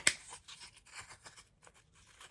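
Scissors snip through paper while cutting out paper house and gnome shapes, a sharp close snip at the start followed by softer, irregular cutting and rustling, fairly quiet throughout.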